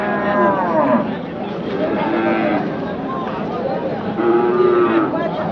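Repeated loud, close bull moos overlapping each other at the Chakan cattle market, with a busy crowd murmuring in the background.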